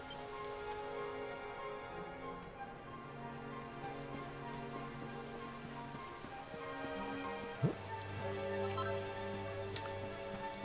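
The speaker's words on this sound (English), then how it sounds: "It would have to go and start raining, wouldn't it?" Rain falls steadily in a video game, a constant soft patter with droplets on surfaces, layered with sustained tonal music and a brief sharp accent near the end.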